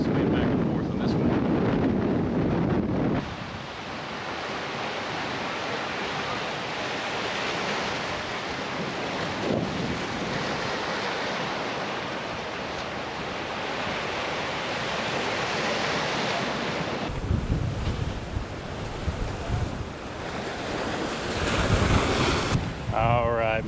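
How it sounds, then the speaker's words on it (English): Strong ocean waves crash and roar near a beach fishing pier in hurricane winds, with heavy wind buffeting the microphone in a loud, continuous wash of surf. "the waves are crashing pretty strong over here"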